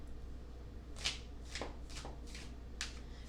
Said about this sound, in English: I will continue to look as I shuffle this deck